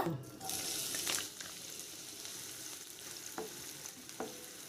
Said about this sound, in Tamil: எண்ணெய் சூடானதும் ஒரு கப்பு பொடியாக நறுக்கின வெங்காயத்தை சேர்த்துக்குங்க.